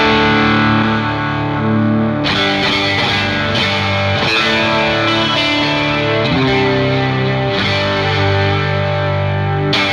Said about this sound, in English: I really like to add a lot of the width with this chorus